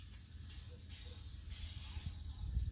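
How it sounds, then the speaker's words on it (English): Paint stripper sprays onto a wooden camel back sea chest in bursts of close hissing spray, several short pumps in quick succession, over a low rumble in the background. "So we'll spray it again."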